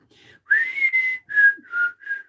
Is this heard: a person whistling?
yes